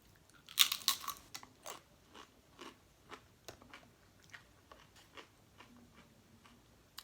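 Crunchy El Pollo Loco tortilla tacos being chewed, eaten cold, with close, crisp crunching bites: a loud burst at the start, then quieter irregular crunches and chews that fade toward the end.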